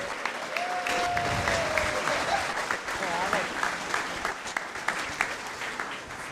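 A crowd applauds at a football club's summer signings fan talk-in, steady clapping with a few voices and cheers mixed in, held at a moderate level for several seconds.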